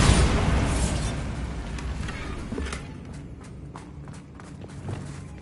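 A Bombarda blast spell goes off in Hogwarts Legacy on PS5, a loud booming burst at the start that rumbles and fades, followed by lighter scattered pops and thuds.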